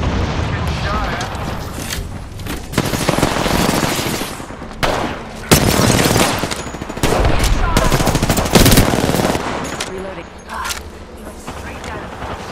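Gunfire in the battle royale game Apex Legends: dense, loud automatic bursts and heavy impacts repeat across the clip with short lulls, while voices talk over the shooting.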